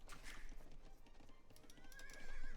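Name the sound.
horse neighing in video game Age of Empires II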